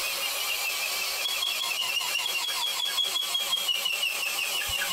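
A Dongcheng DCJZ20160i hammer drill grinds hard under heavy load, binding and kicking back, a loud continuous whine with rapid rhythmic pulsing as the bit strains and catches.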